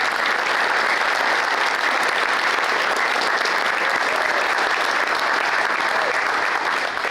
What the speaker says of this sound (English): Ladies and gentlemen, one big round of applause for our inductees.